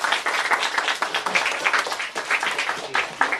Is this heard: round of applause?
yes